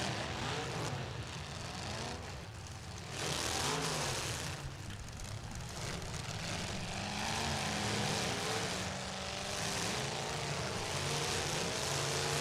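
A full-size demolition derby car at a Bash for Cash smash event has its engine revved hard. A steady, loud, rough roar rises and falls in pitch over distant background noise.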